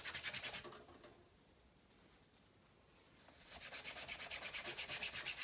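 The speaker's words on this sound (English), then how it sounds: "I'm going to take it and just kind of buff it." A surface is buffed by hand with a cloth before waxing, giving quiet rhythmic rubbing strokes in two bursts at the start and end, with a pause between them.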